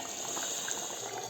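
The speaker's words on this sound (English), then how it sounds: "still simmering away the water." Goat curry simmers in a pot on the stove, a steady soft bubbling and hiss of water cooking off, continuous and close with no voices.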